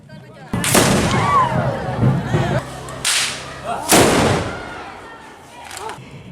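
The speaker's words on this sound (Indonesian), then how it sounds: "prosesi ini juga ditandai dengan tembakan badia balansa sebagai tanda kegembiraan warga" Celebratory badia balansa gunshots ring out during a village procession for a newly installed religious leader in Padang, with several sharp cracks spaced a second or two apart and crowd noise and voices between them.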